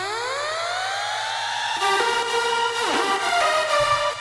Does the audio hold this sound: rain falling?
no